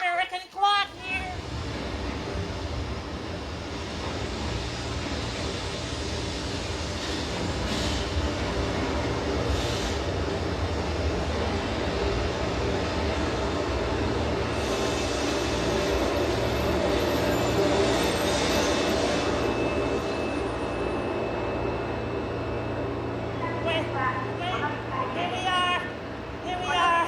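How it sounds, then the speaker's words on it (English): In a railway station in Japan, a train hums and rumbles steadily for nearly half a minute under a constant wash of station bustle, with voices talking over it throughout. "Oh, okay, get on the train."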